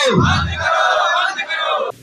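A crowd of striking electricity department workers chants a slogan in loud unison, a close, massed shout that breaks off near the end.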